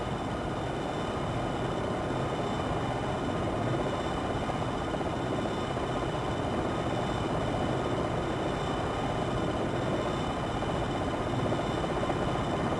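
Steady, even rotor and turbine drone of a Longbow attack helicopter holding a hover in the flight simulator game Jane's Longbow 2, continuous and broadband at moderate level with no voices.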